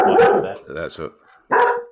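A dog barks in a few short, loud bursts at a front door, alternating with someone talking close by.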